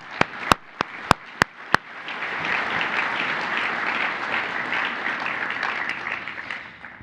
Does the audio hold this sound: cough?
no